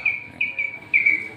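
Caged birds in the morning give short, bright chirps, three or four clear high tweets close by over a quiet background, with no talk.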